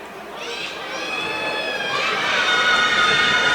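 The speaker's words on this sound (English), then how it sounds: "The crowd here at Laurel Highlands High School making some noise." A home crowd at a girls' high school basketball game in the Laurel Highlands gym against Elizabeth Forward cheers and shouts. High-pitched voices swell steadily and grow louder toward the end.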